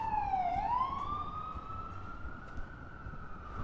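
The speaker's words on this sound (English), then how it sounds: "There's an ambulance coming by as soon as I said that." A passing ambulance's siren wails in a single sliding tone that dips, then rises and holds, moderately distant above street traffic noise in Red Hook, Brooklyn.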